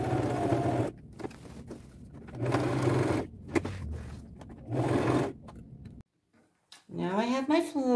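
Bursts of a domestic sewing machine stitching flower petals onto jeans, rapid mechanical chatter in several runs separated by short pauses, close by, with a brief spoken passage near the end.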